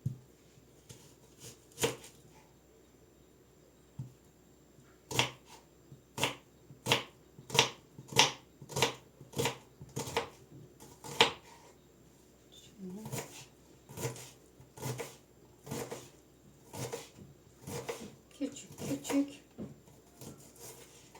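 A knife chops onions on a cutting board in a home kitchen, with crisp, steady strikes in quick runs broken by brief pauses, close and clear, with someone speaking now and then.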